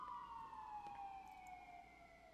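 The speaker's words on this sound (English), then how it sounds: "Another siren." An emergency vehicle siren passes outside, a steady wailing tone gliding slowly downward over a couple of seconds at moderate distance, with no talking over it.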